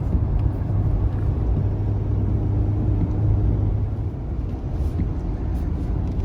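A 2019 Ford F-450 Limited pickup hauling a 30,000 lb trailer up a hill, its engine and road noise forming a steady, loud low rumble that holds throughout with only slight dips in level.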